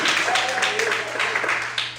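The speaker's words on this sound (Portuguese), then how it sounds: "Você pode aplaudir, amém?" Churchgoers applaud during a morning worship service, a fairly soft, continuous wash of clapping from many people with voices and a thin sustained tone running beneath it.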